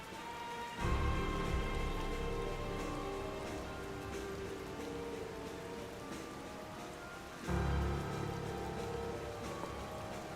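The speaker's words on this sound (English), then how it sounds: "It's raining." Steady rain hisses and patters continuously in The Legend of Zelda: Tears of the Kingdom, with a low rumbling swell near the start and again later, no voices present.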